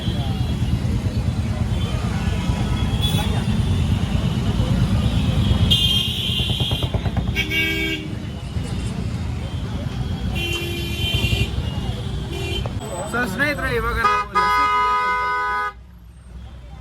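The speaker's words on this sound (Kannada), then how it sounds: "ಇವಾಗ ಸಿಕ್ಕಾಪಟ್ಟೆ ಹಾರನ್ ಡಿಸ್ಟರ್ಬೆನ್ಸ್ ಇರುತ್ತೆ" Busy street traffic in Varanasi with repeated car and motorbike horns honking near and far over a constant engine rumble, while a person talks throughout.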